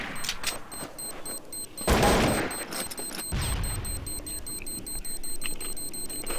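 Gunfire in Counter-Strike Source on a Dust 2 or Train map: sharp shots and a heavy booming burst crack out over background game noise, near and loud, with a steady ticking beep running along the top.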